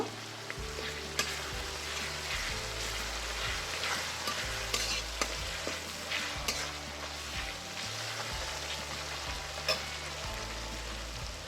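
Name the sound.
spices and ingredients being sautéed together in a pan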